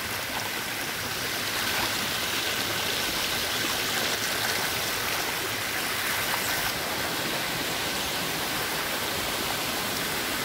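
Steady, dense rush of a waterfall in Bailen, Cavite, constant and fairly close, with no voices over it.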